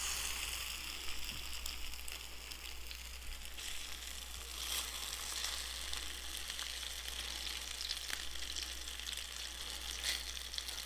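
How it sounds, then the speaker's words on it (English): Tofu patties frying in a pan make a soft, continuous crackling sizzle, faint and even throughout, over a low steady electrical hum. "When you fry them in the pan, you want to make sure you turn them around like this."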